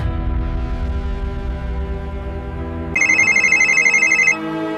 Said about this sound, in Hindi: अब एसपी साहब का फोन आ रहा है, देखो।